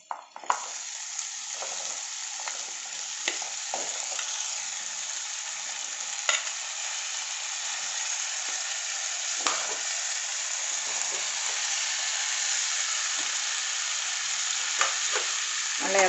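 Tapioca stir-fries in hot coconut oil, a dense continuous sizzle with occasional clicks and scrapes of a spoon against the pan, close and steady throughout with no voices.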